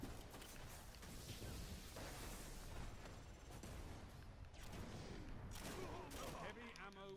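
Rapid gunfire from a Destiny video game firefight, dense overlapping shots and bursts in a continuous barrage, with faint game effects beneath.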